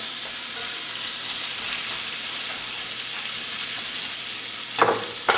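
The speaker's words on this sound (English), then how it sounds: "we're going to add the potatoes back to the peppers, mix it up nicely like this" Fried potatoes and peppers being stirred together in a pan for a frittata, giving a steady close sizzle with soft scraping throughout and a couple of sharper clatters of the utensil near the end.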